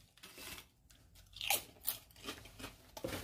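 Crunchy ketchup Doritos chips bitten and chewed up close, loud crisp crunches in irregular bursts, louder near the middle and end, with no voices.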